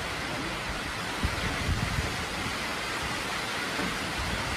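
Steady rain pours down in a broad, even hiss at a rural grandmother's home in Vietnam, loud and continuous with a few soft thuds underneath and no talk.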